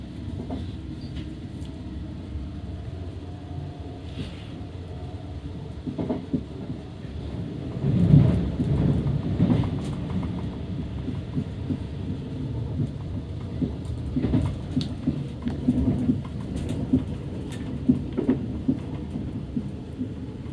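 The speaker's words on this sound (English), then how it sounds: "We are racing the Woking train over there." A train on the Waterloo to Reading line rumbles along with rolling, rhythmic clatter that swells midway, heard from close by as a deep continuous roar with occasional sharper clanks.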